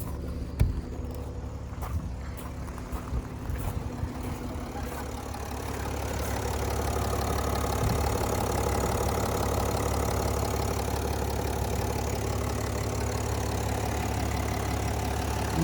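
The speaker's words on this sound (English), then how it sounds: "No strange noises coming from the engine, which is good." A project car's engine starts and settles into a steady idle, a low rumbling drone that builds after the first few seconds and holds evenly, close by, with no talk.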